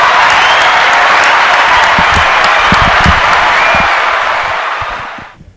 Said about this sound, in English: one more round of applause for Pop